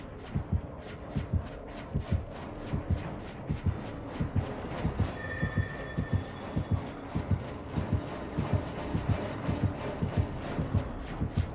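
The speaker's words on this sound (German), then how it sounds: "Ich habe schon einen Herzschlag, das gibt's doch gar nicht." Steady, loud heartbeat warning from the horror video game Dead by Daylight, a rapid double-thump pulse repeating evenly throughout, with a brief tone in the middle and no talk.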